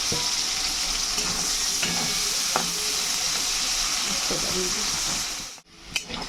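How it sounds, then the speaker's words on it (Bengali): Whole onions frying in hot oil for a homemade Bengali chicken curry, a steady close sizzle with occasional stirring scrapes, ending in a brief pause and a clatter. "পেঁয়াজটা এই যে সুন্দর ভাজা হয়ে গেছে গোল্ডেন কালার হয়ে গেছে"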